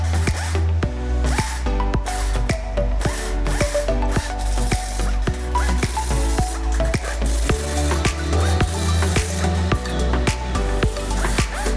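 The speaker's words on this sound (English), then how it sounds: "An electric drill is used to connect the bolts and nuts together to the struts." Electric drill driving serrated-flange bolts and nuts onto struts of a bolted steel rack frame, with repeated whirring bursts and ratcheting clicks in a steady working rhythm, loud and close over a mechanical backdrop.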